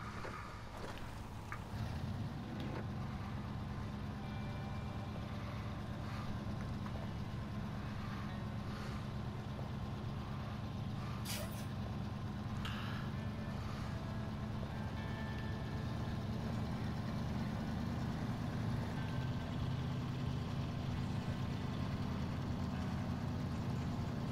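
A truck drives in the SnowRunner video game, a low steady engine rumble that swells slightly later on, with wind-like hiss over it and no talking.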